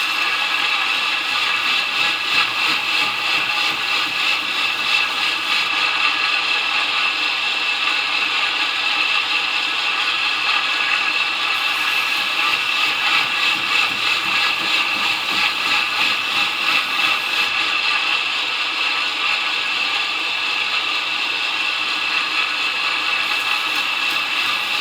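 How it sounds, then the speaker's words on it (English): A disc sander grinds the tall flat grind of a knife blade in a continuous, steady abrasive whine that runs close and unbroken, with slight surges in pressure and no talk. "I may take it over to the disc sander since we're doing a tall flat grind"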